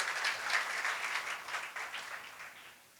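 A brief round of audience clapping at a family-themed talk event, fairly faint and distant, rippling for a few seconds before tapering away.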